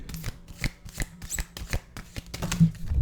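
A short run of crisp, clicking tarot cards being given a quick mini shuffle, with fast rhythmic riffles close up and no talking.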